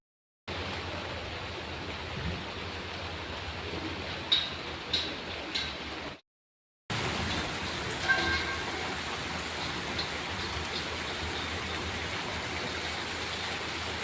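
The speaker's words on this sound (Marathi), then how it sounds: "तोपर्यंत आपण बाहेर पाऊस बघून येऊया" Steady rain falling outside on a rainy day, a soft continuous hiss with a brief cut-off and a few faint ticks of drops on surfaces.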